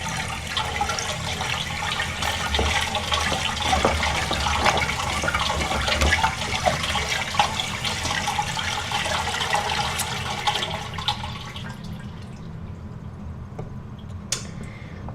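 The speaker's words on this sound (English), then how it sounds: "so the water keeps gushing" A toilet tank keeps gushing after a flush, a loud, close and steady rush of water that runs for several seconds before easing and thinning out near the end.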